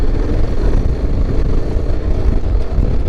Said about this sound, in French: Le bruit du moteur est cool.